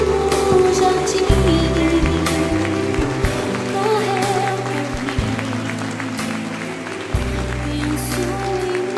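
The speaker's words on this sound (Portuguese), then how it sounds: "Aplaude o Senhor." A church congregation claps steadily through a sung passage of worship, the applause a dense, continuous patter under the singing voice and music.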